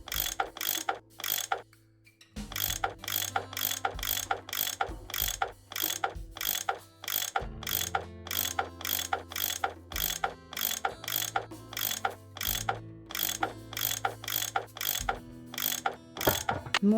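A ratchet tool cranks bolts loose in a Nancy Drew puzzle game, producing rapid clicking strokes in repeated bursts with brief pauses and a low mechanical hum between them, with no voices.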